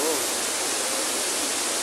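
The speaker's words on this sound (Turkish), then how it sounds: "Şırıl şırıl su." Water rushing at the Samandere waterfall, a steady broadband hiss of flowing cascade filling the scene without pause, close and fairly loud.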